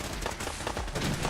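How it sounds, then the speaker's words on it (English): Rapid gunfire in the video game Fallout 4, a dense burst of overlapping shots at fairly low level lasting just over a second. "Oh my god, I just got shot in the face, didn't I?"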